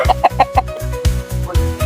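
A chicken clucks in a rapid, steady series of short, loud pulses close by, with no talk over it.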